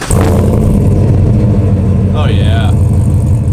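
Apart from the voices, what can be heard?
truck engine revving through Borla XR1 exhaust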